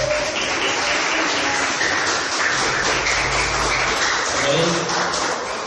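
A church congregation claps for the Lord's name during an evangelical service, dense continuous clapping filling the space, with voices and murmuring mixed underneath at an even level.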